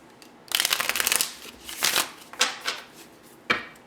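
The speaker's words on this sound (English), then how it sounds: "do 2 more shuffles." Tarot cards shuffled by hand in several separate bursts, each a crisp riffling flutter, with short pauses between them and a single sharp snap near the end.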